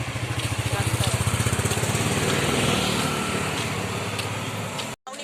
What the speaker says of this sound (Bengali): বাইক চালিয়ে যাচ্ছে